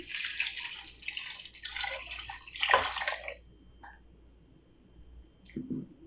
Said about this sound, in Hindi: अब मैं तकरीबन 1 लीटर के करीब इसमें पानी डाल दूंगी।